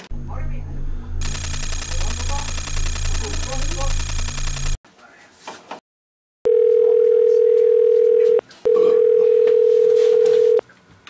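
A telephone dial tone hums steadily and loudly, broken once by a short gap, after a stretch of dense buzzing noise and a brief near-silence.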